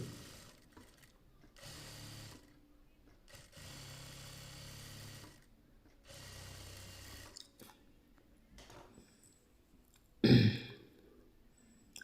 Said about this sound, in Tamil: ரெண்டு பக்கமுமே தைச்சிக்கலாம் ஒரே போல்.